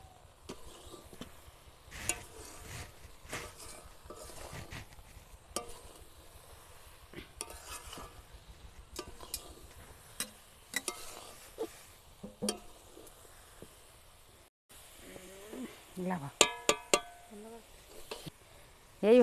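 Semolina is stirred into boiling sugar and coconut for sujir naru, with soft repeated scraping and clinking strokes of a spoon against the pot over a quiet bubbling sizzle and a brief pause near the end.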